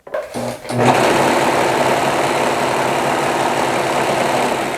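A serger sewing machine runs on scrap fabric to gather it, with the needle tension cranked all the way up to 6. After a brief start it settles into a steady, close, loud whirring drone with no talking.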